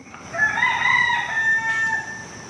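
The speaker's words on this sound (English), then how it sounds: "a rooster in the background kept crowing at the worst possible moments" A rooster crows one long, drawn-out call over a steady background hum, fairly close and clear.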